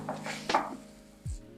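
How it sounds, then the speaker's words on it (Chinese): Rice breakfast cereal and toasted quinoa are stirred into melted chocolate in a bowl, giving a few soft scraping and crunchy rustling strokes followed by a brief knock, close and fairly quiet. "还有加入刚刚炒香的藜麦，把它们全部混拌均匀。"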